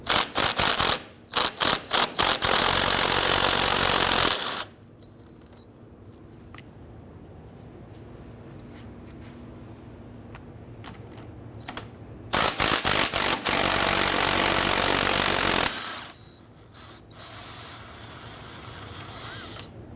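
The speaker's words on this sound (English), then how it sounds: "We're going to use our 16mm socket to go ahead and loosen these bolts." A 16mm socket on a ratchet or power tool loosens bolts on the front shock and spring assembly of a 2007-2014 Cadillac Escalade, with two loud sustained bursts of whirring separated by quieter clicks and handling.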